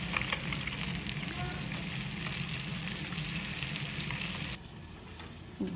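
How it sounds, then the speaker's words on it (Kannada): Masala-coated fish sizzles in a pan as its second side fries, a steady dense crackle close by that dips slightly near the end. "ಎರಡೂ ಸೈಡ್ ಬೇಯಿಸ್ಬೇಕು. ಈಗ ಇನ್ನೊಂದು ಸೈಡ್ ಬೇಯಿಸೋಣ."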